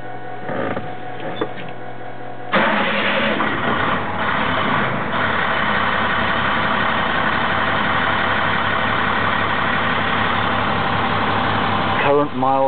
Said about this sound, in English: The engine is the International DT466E.